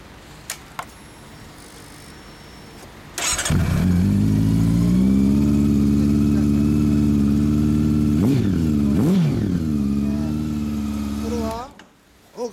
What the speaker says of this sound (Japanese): オッケー、エンジンを聞かせてもらえる？